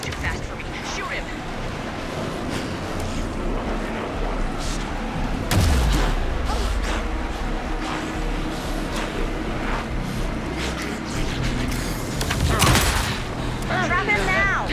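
Rapid gunfire bursts in the horror video game Alan Wake 2, with heavy booming shots and a low rumble, sounding over game voices and a tense ambient backdrop.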